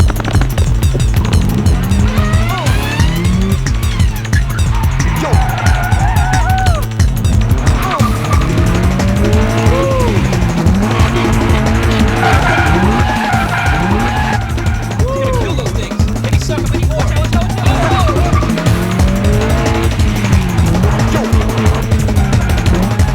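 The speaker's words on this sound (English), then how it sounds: "Sounded like you were bouncing off the rev limiter there a little bit." A race car launches hard, its engine bouncing off the rev limiter in rapid stuttering pulses with tire squeal, loud and close throughout.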